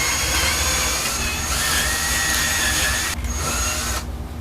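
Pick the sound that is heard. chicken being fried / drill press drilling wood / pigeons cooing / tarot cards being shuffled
drill press drilling wood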